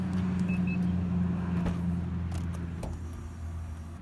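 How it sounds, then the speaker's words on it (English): A 2019 Mazda CX-9 power seat adjusts itself with a steady low motor whir and hum that runs for about three seconds and then stops with a faint click. No one speaks. "moving the seat all on its own."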